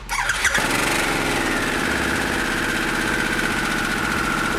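A Harley-Davidson Sportster S with the Revolution Max 1250 engine cold-starts with a sharp crank and catch, then settles into a loud, steady high idle with a rising whine that hums on close by.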